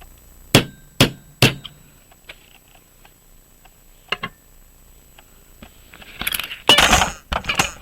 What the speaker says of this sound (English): The hammer I put on my lap. And of course it fell off.